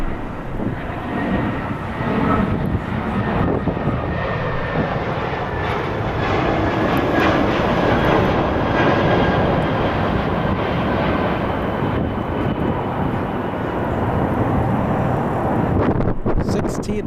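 Airliner jet engines roar steadily while taxiing at LAX airport, a loud, broad rumble with some wind buffeting on the microphone. It stays constant throughout, with no talking.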